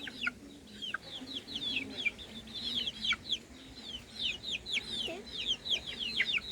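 A flock of farm chickens clucks and chatters busily at feeding time, a dense, constant chorus of short calls that is close and fairly faint overall.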